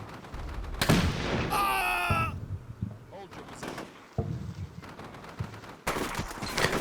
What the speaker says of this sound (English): the squad from 11 Platoon opens fire